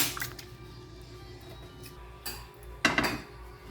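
Three ingredients being mixed together in a bowl for a breakfast dish, with utensil clinks and scrapes against the dish in short bursts, strongest near the end, with no talking.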